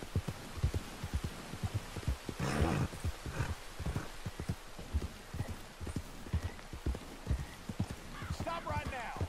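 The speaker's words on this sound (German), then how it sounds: "Pferdchen." Horse hooves clip-clop in a steady, rhythmic gait while riding in the video game Red Dead Redemption 2. The footfalls sound fairly close and moderately quiet, with a brief snort or whinny and some talk over them.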